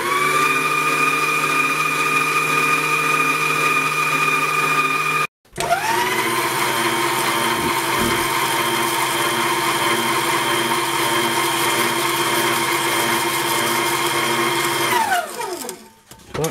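Electric mixer beating brownie batter for marshmallow brownies, a steady loud whirring drone that cuts out briefly, restarts and runs on before winding down at the end.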